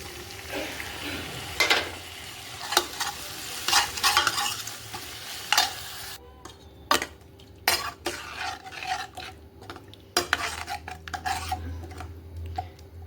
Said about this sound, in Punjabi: ਫਟਾਫਟ ਉਹਨੂੰ ਤੜਕਾ ਲਗਾ ਲਵਾਂ